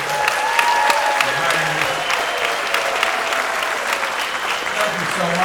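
An audience at an orchestra concert keeps up loud, sustained applause from start to finish, while a voice speaks briefly over it.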